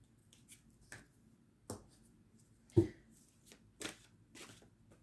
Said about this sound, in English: So we'll take a wild card, as always